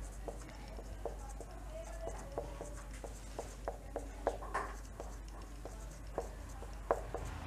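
Soft scratchy strokes of writing on a board during a maths lesson, a quiet run of short taps and scrapes coming in uneven bursts over a low steady room hum.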